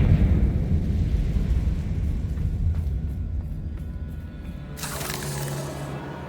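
A Confringo fire spell blasts in Hogwarts Legacy, heard as a deep rolling rumble that fades before a bright shattering, crackling burst near the end.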